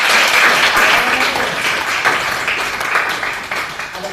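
A classroom audience at a teacher performance assessment session in Indonesia claps, loud continuous applause throughout with a dense, even texture.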